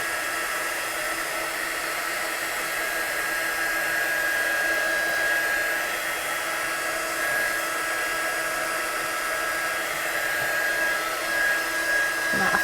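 A heat gun blows a constant, steady whooshing roar at close range while drying watercolour paint on a stamped card, with no talking.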